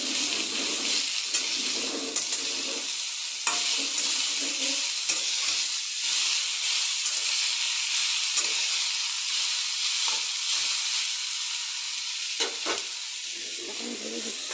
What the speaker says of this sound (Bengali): বেগুনগুলি ভাজা হয়ে গেছে। এখন লাই পাতাটা দিয়ে দেবো।